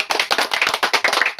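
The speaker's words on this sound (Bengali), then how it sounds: "এখন হাততালি দাও না" A person claps hands in a quick, even series of sharp, close slaps, loud and steady, with no speech.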